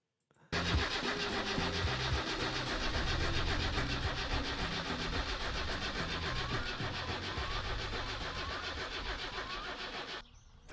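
A car engine in My Summer Car cranks steadily but does not catch, a continuous rhythmic churning that runs close and loud for about ten seconds before cutting off.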